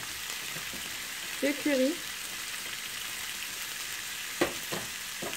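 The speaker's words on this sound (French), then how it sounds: "Voilà, je fais revenir le tout quelques minutes" Leeks and turkey cutlet sauté with spices in a pan, giving a steady, soft sizzle with faint stirring scrapes, while someone speaks briefly in French.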